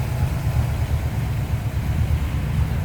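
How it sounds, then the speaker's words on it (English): A 1961 Oldsmobile Starfire V8 engine idles with a steady, deep rumble that stays loud and even the whole time, close by and alone. "V8 sounds."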